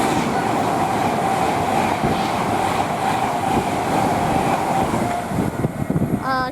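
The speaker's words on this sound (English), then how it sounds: "we have an Avanti West Coast class 390 from Liverpool to London" An Avanti West Coast Class 390 train from Liverpool to London passes through Rugby, a loud steady rumble and rail roar filling the whole clip, with some wheel clatter near the end.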